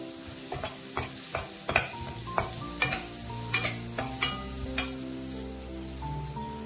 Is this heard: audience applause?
no